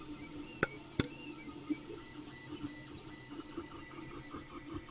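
An Ender 3 Pro 3D printer prints a rubber duck, giving two sharp clicks near the start and then a faint, steady run of soft rhythmic motor whirring and ticking in a quiet room.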